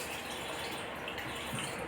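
Water pours into a juicer blender in a steady, soft, continuous splash, close and faint, with no talking.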